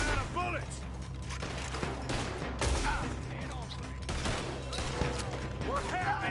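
Gunfire in Red Dead Redemption 2, a dense fusillade of repeated shots and mechanical clatter, loud and continuous, with voices talking over it.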